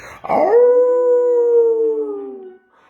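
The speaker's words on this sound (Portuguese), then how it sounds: "aquele uivão, um uivo estremecente" A huge, ugly animal, likely a dog or wolf, lets out one long sustained howl, loud and close, holding a steady pitch for over two seconds before it fades, with no voices present.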